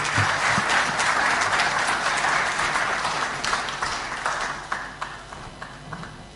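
Audience applause after a closing speech at an IGAD regional address, dense sustained clapping from a large room that thins toward the end, with a few scattered individual claps trailing off.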